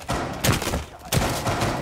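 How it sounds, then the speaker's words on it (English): Two loud shotgun-pistol blasts in Rainbow Six Siege, in a Kanal bomb match, about half a second apart, each with a short sharp crack and a trailing rumble. "And I'm doing it with a shotgun pistol."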